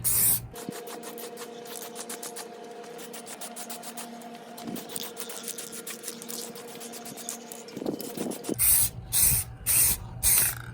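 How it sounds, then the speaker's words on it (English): Aerosol clear coat hisses in steady bursts onto a Saab 9-3 pre-facelift taillight, close and continuous, with the can's mechanical tone running underneath, then stopping as a few short sharp rattling bursts follow. "So there's 3 coats of clear coat on it all now."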